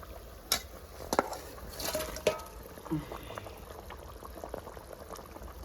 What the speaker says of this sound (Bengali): ঝোলটা ফুটে গেছে, মাছটা দিয়ে দেবো এবার।